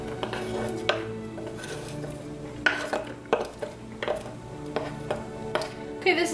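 Diced green pepper tipped into a bowl of beef meatloaf mix, giving a series of close clinks, taps and scrapes of utensil against the bowl at an irregular rhythm, with no talk over it.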